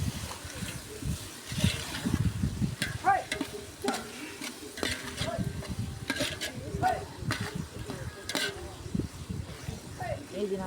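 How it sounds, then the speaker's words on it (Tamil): Tomatoes and green chilies sizzle and fry in a pan for biryani, with steady crackling and repeated stirring scrapes throughout, a voice talking over the cooking. "அதையும் நல்லா வதக்கணும்."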